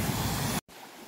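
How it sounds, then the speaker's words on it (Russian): Rushing stream water swollen after heavy rains runs loud and steady as a broadband roar, briefly cut off by a short gap before resuming at lower level. "Надо же, бьет воду как."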